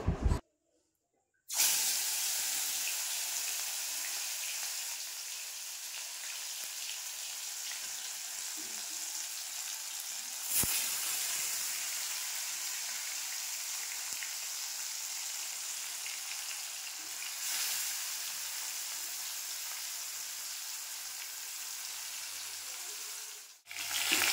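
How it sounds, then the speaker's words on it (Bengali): Pieces of fish coated in salt and turmeric fry crisply in hot oil, a loud steady hiss and sizzle that starts suddenly after a short silence and runs on with small pops. "আগে ভালো করে লবণ হলুদ দিয়ে মাখিয়ে নিই, তারপরে এক এক করে ভালো করে আজকে কিন্তু একটুখানি কড়া করেই ভাজবো"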